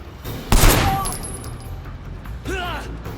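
Video game gunfire rings out in a sharp, loud burst followed by fading echoes and clanking game effects, with later pitched digital tones.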